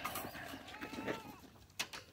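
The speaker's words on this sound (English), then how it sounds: "Come on, goats." Young buckling goats give several faint bleats at a distance, with a sharper call near the end over soft background noise.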